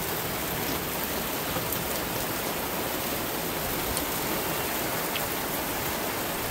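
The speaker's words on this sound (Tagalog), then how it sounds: "Mga Jai, it's raining mga Jai." Steady rain pours down continuously, an even hiss of drops hitting surfaces close by, with no pauses.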